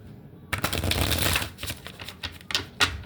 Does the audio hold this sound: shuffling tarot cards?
yes